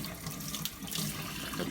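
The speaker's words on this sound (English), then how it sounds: "keep one side of the record under the water as you're going around" A vinyl record is rinsed under a running tap, water streaming steadily and splashing softly as it hits the disc and sink, fairly quiet and continuous with no voices.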